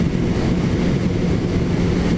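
Suzuki GSX-S750A motorcycle engine roars steadily and loudly up close, a continuous rumbling drone with no pause.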